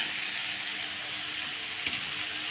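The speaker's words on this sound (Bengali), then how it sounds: "এখন আমি ঝিঙেগুলো দিয়ে দেবো।" Ridge gourd dropped into a frying pan of browned potatoes, giving a steady, soft hissing sizzle throughout, with one brief clatter partway through and no talk.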